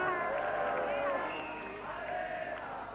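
An excited crowd at a 1982 Jeux Sans Frontieres game heat in Sherborne, Dorset, a steady wash of cheering and shouting voices, with a commentator talking over it.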